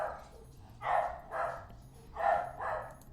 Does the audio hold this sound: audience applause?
no